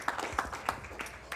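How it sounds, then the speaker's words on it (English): Brief burst of light scattered clapping at a poker tournament final table, a few sharp claps at uneven intervals, fairly faint. "One more round of applause for our final 9 players."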